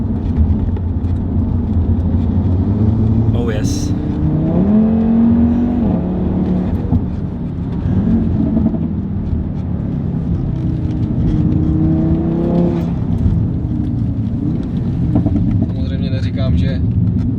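Tuned Audi RS3 with a Revo remap, its engine set to the loud dynamic mode, drones and rises steadily under the cabin with rising revs, while people talk inside the car over it.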